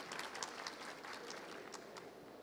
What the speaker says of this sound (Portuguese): Isso merece uma salva de palmas.